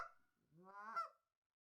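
Geese honking in an Indonesian advertisement for a duckling and gosling growth vitamin, a single clear, loud, drawn-out honk heard alone and rising at the end, followed by silence.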